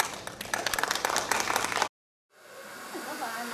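Audience applause welcoming a documentary screening at a cancer-support charity event, a dense burst of clapping that cuts off abruptly midway, followed by quieter ambient sound.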